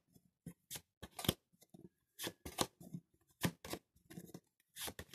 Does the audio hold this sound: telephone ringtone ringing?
no